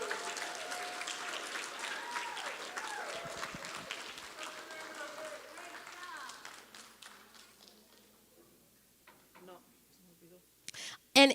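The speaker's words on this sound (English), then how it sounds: "We could give them a nice round of applause for their dedication here." Applause from an audience at a youth awards ceremony for Royal Rangers and Girls Club, a broad steady patter of clapping that fades out over several seconds, with murmured voices and a sharp knock near the end.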